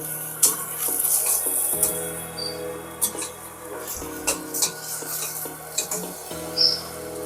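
Tomatoes sauté in a pan with ginger garlic paste, giving a moderate sizzle under repeated spoon scrapes and clinks against the pan, with a faint voice now and then.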